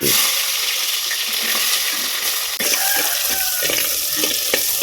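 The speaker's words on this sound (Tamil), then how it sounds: "அதனால சின்ன வெங்காயம் கட் பண்ணி வச்சிருக்கிறேன், அதை இப்போ சேர்த்துக்குவோம்." Small chopped onions hiss loudly in a clay pot over a wood fire, a steady dense sizzle running unbroken with light stirring scrapes on top.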